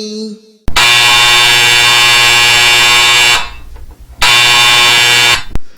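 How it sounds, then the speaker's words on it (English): A loud, steady electric buzzer drones for about three seconds, stops briefly, then sounds again for another second and a half. "The sound of the buzzer went off."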